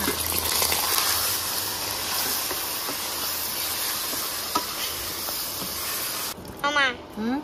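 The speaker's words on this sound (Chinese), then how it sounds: "切一下水豆腐，有点油来炒菜，" Soft tofu sizzles and hisses steadily in hot oil in a home kitchen, a loud continuous fry that breaks off near the end as a voice speaks briefly.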